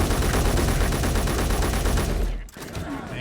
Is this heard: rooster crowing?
no